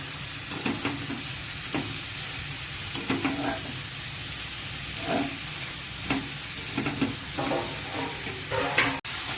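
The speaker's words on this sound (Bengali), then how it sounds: "দেখুন, আমি এটাকে ভালো করে একটু নেড়ে চেড়ে ভেজে নিচ্ছি" Minced chicken sizzles in a pan for chicken rolls, a continuous hissing fry with regular scraping strokes of a spatula stirring through the meat, close and fairly loud.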